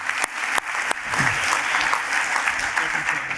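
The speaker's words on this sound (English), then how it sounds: "Give a round of applause." An audience at a marketing conference session breaks into applause, a dense clapping wash with a few sharp individual claps standing out early, and a voice briefly audible underneath.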